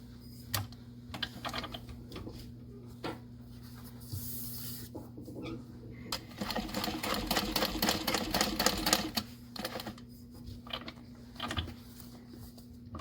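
A sewing machine stitches a handbag along its big tapered side, rapid mechanical whirring in short bursts and one longer run, with clicks and pauses between, close and fairly quiet.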